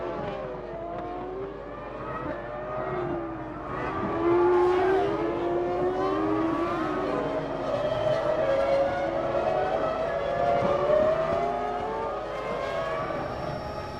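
Formula One cars at the 2000 Malaysian Grand Prix race past, their high-pitched engines whining and shifting in overlapping sweeping tones, loud and continuous for the whole stretch with no talk.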